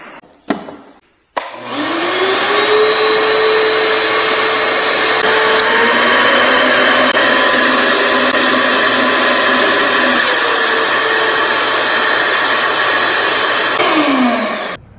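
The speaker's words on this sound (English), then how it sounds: "How about the old shop vac?" An old shop vac powered from a portable power station starts with a rising whine, runs at a loud, steady roar for about twelve seconds, then winds down as it is switched off.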